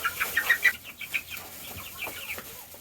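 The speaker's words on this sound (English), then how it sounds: "You know the cries of a chicken." A chick or chicken gives a rapid series of high, thin chirps and clucks, close and fairly loud, softening over a few seconds.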